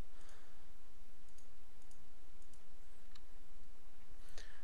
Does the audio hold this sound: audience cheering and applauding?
no